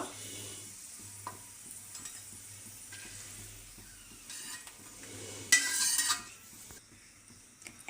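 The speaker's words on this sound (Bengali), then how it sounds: "এখন হচ্ছে কেটে রাখা আলু পটলগুলো দিয়ে দেবো তেলে।" Cut potato and pointed gourd pieces frying in soybean oil, a steady low sizzle with stirring and utensil scrapes, rising to a brief louder burst of hissing as the vegetables hit the hot oil near the end.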